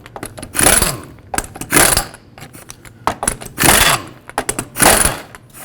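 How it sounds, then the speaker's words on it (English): Lug nut covers on a steel wheel with hubcap coming off with a 19mm socket: repeated bursts of metallic ratcheting and clicking, four or five spaced turns with short pauses between, close by. "remove these lug nut covers first with a 19mm socket"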